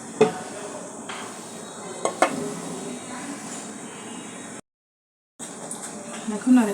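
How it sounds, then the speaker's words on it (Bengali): Chopped chicken is stirred in a cooking pot, with scraping and clinking of a spoon against metal over a faint sizzle, interrupted by a brief silence, while a person talks. "এখন আবার একটু নেড়ে ছেড়ে দেবো।"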